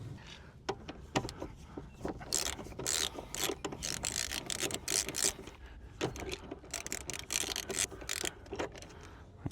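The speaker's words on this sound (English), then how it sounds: "just a flat screwdriver, take the cover off." A flat screwdriver prying the factory roof rail cover off a Mitsubishi Pajero, with close, continuous scraping, rubbing and clicking of plastic and metal and sharp snaps scattered throughout.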